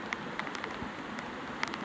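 Rain falls on a phone outdoors in nature, a steady close patter of drops with sharper individual ticks hitting the device surface, continuous and alone without talk.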